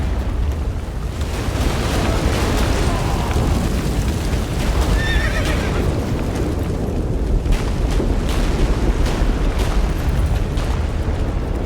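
A horse neighs loudly in The Witcher 3: Wild Hunt, its whinny rising over a dense, rumbling backdrop of battle noise and explosive bursts that carries on without pause.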